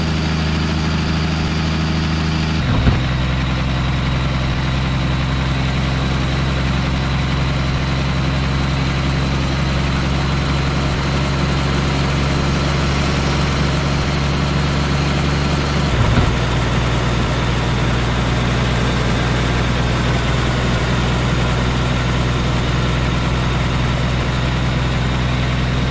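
Heavy truck engine in the driving game 18 Wheels of Steel Hard Truck, a steady low diesel idle that holds for nearly the whole stretch, broken by two brief gear-change bumps before settling back to a constant drone.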